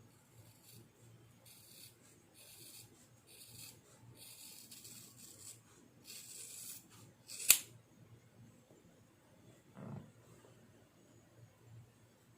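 Scissors snip through hair during a home self haircut, with faint soft rasping and rubbing throughout, one sharp loud snip near the middle and a duller thud after it, in a quiet room.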